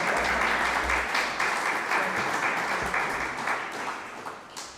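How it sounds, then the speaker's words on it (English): A congregation at a Sunday church service gives a sustained round of applause that stays full and even, then thins slightly toward the end. "Maybe another round of applause."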